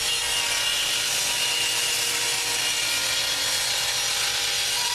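A wooden board is sawn by hand, a close, loud, continuous rasping with rapid even strokes that carry on without pause, with no voices.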